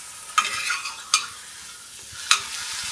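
Keto taco shells frying in a pan, a steady broadband sizzle with three sharp louder crackles or pops spaced across the moment, close and alone with no voices.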